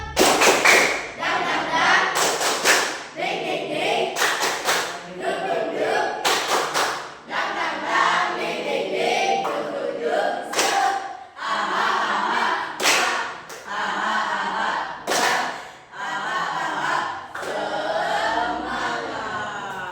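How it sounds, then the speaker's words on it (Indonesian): Students in a junior high school classroom perform a rhythmic group clap together, loud patterned bursts of many hands in quick sequences, with cheering voices and talk mixed between the clapping. "Ice breaking tepuk semangat dulu kali ya."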